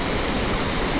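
Roaring waterfall at Edenville Falls, heard from close behind the falls: a dense, steady rush of water with no letup, loud and filling the whole moment.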